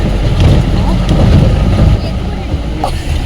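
A jeep climbing the road to Kodachadri in the rainy season, its engine and tyres making a steady low rumble, with wind buffeting the microphone throughout and easing slightly after two seconds.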